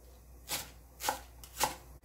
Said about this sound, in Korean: 양파 반 개만 썰어줍니다